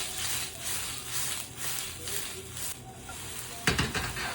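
Onion fries in hot oil for japchae noodles, a steady close sizzle with soft stirring and a sharper crackling burst near the end.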